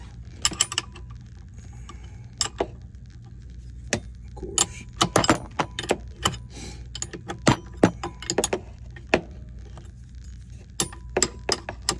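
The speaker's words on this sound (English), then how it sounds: "go back and tighten up your starter mounting bolts" Metallic clinks and ratcheting taps come from a 17 mm wrench tightening the starter mounting bolts on a Yamaha golf cart, in irregular bursts of short sharp clicks close by.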